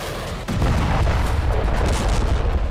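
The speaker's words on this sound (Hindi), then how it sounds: "जमीन में विस्फोट की ये तस्वीरें किम जोंग के मुल्क उत्तर कोरिया से आई हैं" A heavy ground explosion in North Korea, a sharp deep boom about half a second in, followed by a loud, sustained rumble lasting through the remainder, with no voices.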